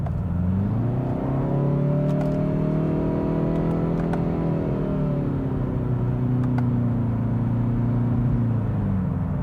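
A 2019 Kia ProCeed GT accelerating under manual paddle-shift control, a steady engine drone heard from inside the cabin that rises in pitch, dips at a gear change and climbs again.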